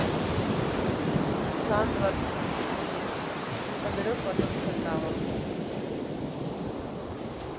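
Cold-weather Atlantic and North Sea surf rolls onto Zandvoort beach in the Netherlands as a steady, loud wash of breaking waves with wind, while someone talks over it.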